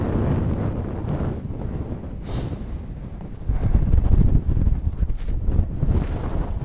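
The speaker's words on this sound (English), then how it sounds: "The wind is just hideous." Strong wind buffets the microphone on an exposed hilltop crag in Northumberland, a steady roaring rush with gusts that swell louder in the second half, with no talking.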